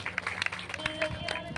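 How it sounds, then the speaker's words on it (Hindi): An audience claps at a Bhagavat Katha religious gathering, with faint, scattered hand claps in an uneven patter and a tonal sound in the background. "जोरदार तालियों के साथ इनका स्वागत करें"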